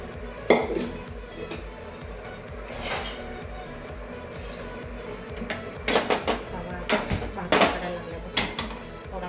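Iron tawa griddle set down on a stove while cooking a meal for Ashadhi Ekadashi pilgrims, giving several sharp metallic clanks and clatters, louder toward the end, with someone speaking in between.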